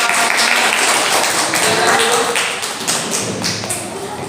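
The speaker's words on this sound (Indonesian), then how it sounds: "kasih tepuk tangan untuk kelompok" A class of students gives a group a round of applause in an Indonesian classroom: dense, close clapping that runs for a few seconds and then tapers off slightly.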